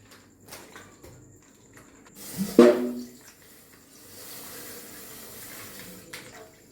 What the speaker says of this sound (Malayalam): നമുക്കിനി ഈ പാല് ഒഴിച്ച് വയ്ക്കാം.